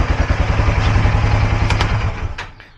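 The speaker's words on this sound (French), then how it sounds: "Bon, je coupe un peu le moteur." A Polaris RZR 570 side-by-side engine idles loudly up close with a steady low pulsing throb, a couple of brief clicks near the end, then the sound winds down as the engine is switched off.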